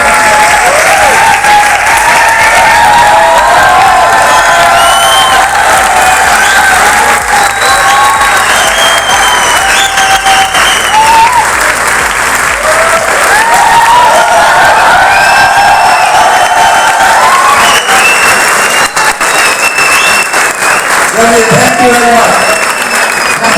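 Audience at a seminar event clapping loudly and continuously, a dense wall of applause with scattered cheers and whoops, voices and shouts breaking through the din throughout.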